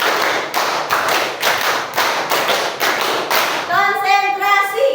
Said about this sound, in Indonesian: Tepuk 1, tepuk 2, tepuk 3, tepuk 4, 3 kali tepuk 5.